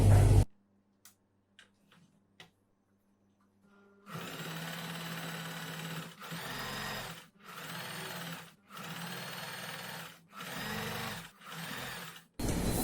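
A sewing machine runs a top stitch along a girls' summer dress in bursts: after a few faint ticks, five or six short stretches of steady whirring stitching, each separated by brief pauses.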